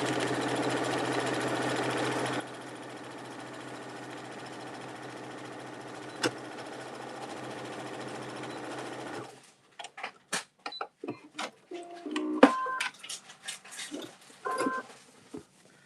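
An electric sewing machine stitches back and forth across the bottom of a fabric bag, a steady continuous motor whir for several seconds that stops, followed by scattered handling clatter and light tapping.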